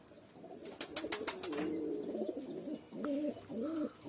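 A Kashmiri pigeon coos nearby in soft, low, rolling phrases that repeat toward the end, with a few brief sharp clicks and faint background noise earlier on.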